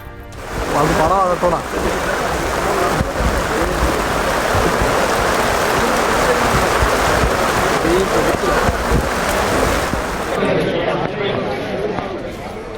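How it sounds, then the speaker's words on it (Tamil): Floodwater rushes loudly and steadily in the Pamba river in Kerala, swollen by continuous rain, a dense, close roar of churning water. "கேரளத்தில் பெய்து வரும் தொடர் மழையால் பம்பா ஆற்றில் வெள்ளப்பெருக்கு."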